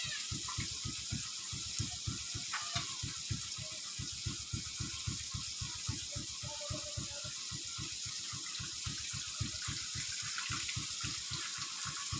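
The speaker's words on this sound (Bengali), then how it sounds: "এবার একটু ফের জল দিয়ে দেবো" Water added to a pan of prawns frying in oil produces a continuous loud hiss with a fast, regular low bubbling pulse throughout.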